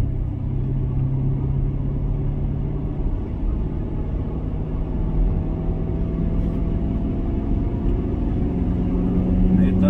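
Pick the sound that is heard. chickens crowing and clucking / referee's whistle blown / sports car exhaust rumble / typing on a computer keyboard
sports car exhaust rumble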